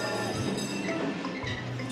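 A train sound effect from the mobile board game LINE Let's Get Rich plays as a steady, loud rumbling and clattering wash that fills the whole moment, with no talk.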